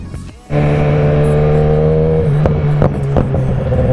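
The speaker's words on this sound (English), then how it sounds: "Just warming up the BMW right now, and then we'll be on our way." A BMW motorcycle warming up: after a brief quiet moment the engine fires into a loud, steady close-range idle with a strong low hum, then gives a few quick blips of revving near the end.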